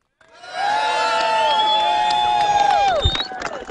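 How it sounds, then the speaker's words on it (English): Crowd at an outdoor rally by a JFK memorial cheering, whooping and clapping, loud and close, with voices rising together into a sustained roar for about three seconds before breaking up. "Let's give a round of applause and a hooray for the thought criminal."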